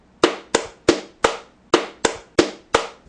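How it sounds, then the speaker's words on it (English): Eight sharp hand claps ring out alone in a quiet room, close and crisp, spaced in two groups of four with a short pause between them. "I mean this kind of clapping."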